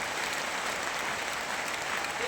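A large crowd at a religious gathering breaks into steady, dense applause in thanks, a continuous wash of clapping from many hands with no pauses across the whole moment.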